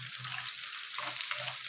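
Fish pieces fry in hot oil in a pan with a steady, dense sizzle, punctuated by low rhythmic scraping or pressing sounds as the pieces are handled.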